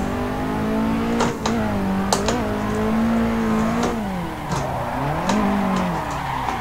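A Nissan 180SX (Street Heroes build) drifts in the Assetto Corsa sim: a steady, loud engine drone rises and falls as revs shift through a long slide, with tire squeal streaks and small throttle blips throughout, no talking.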